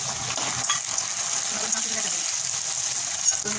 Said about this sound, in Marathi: मी टोमॅटो घालते